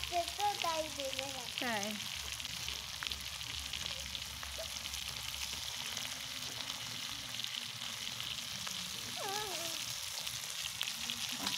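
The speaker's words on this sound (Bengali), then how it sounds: "কত সুন্দর লাগছে দেখতে মাছ ভাজাটা" Fish fries in a pan during home cooking, giving a continuous steady sizzle close by, while voices talk intermittently over it.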